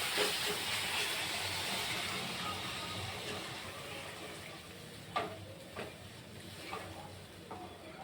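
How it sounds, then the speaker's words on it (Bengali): Water is poured into a pan of fried spices with chopped capsicum and cabbage, giving a steady loud hiss that slowly fades, with a few sharp crackles and pops near the end. "এবার আমি জল ঢেলে দিই"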